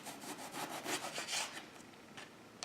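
A knife slices through eggplant on a cutting board in a series of quick, faint, rhythmic rasping strokes, close by and alone with no voices.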